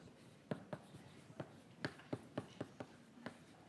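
Chalk or marker writing on a board in a chemistry lecture hall, a quick series of soft tapping and scratching strokes at an uneven rhythm, close and faint against a quiet room.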